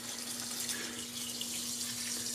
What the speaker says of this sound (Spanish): Ahora le vamos a añadir 4 tazas de agua.